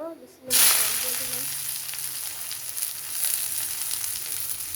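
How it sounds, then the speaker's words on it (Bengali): Onions hit a hot pan and start frying, a sudden loud sizzle after a quiet moment that settles into a continuous crackling hiss. "পেঁয়াজগুলো ভাজা ভাজা করে নিব।"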